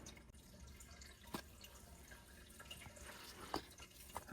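Water drips and trickles faintly from a freshly watered potted houseplant, with scattered soft droplets in a quiet room.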